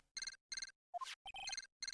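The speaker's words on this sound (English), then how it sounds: "The transceiver." A transceiver rings in the Phoenix Wright: Ace Attorney video game, with four bursts of bright electronic trilling separated by short gaps, plus two brief synthetic chirps partway through. The sound is clear and close, and no one speaks over it.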